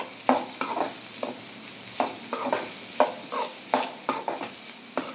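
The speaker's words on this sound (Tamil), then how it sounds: "வெங்காயம் நல்லா வதங்கிடுச்சு" Onions sauté in a pan for prawn gravy, with a spatula pushing them around in regular scraping strokes over a low, steady sizzle; the strokes are close and clear, and no one talks.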